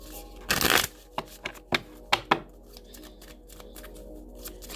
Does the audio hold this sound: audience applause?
no